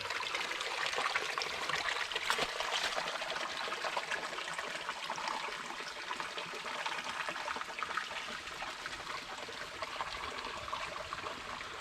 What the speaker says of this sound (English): I'll be quiet so you can just kind of listen to the water.